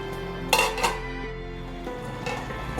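A metal lid clanks onto a pot of lentil kofta curry on the stove, two sharp close clinks followed by lighter rattling and a soft simmer underneath, with no talking.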